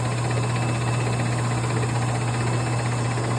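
A film shaker and curing machine runs steadily, a continuous mechanical hum with a low drone and faint vibration, holding level throughout with no talk.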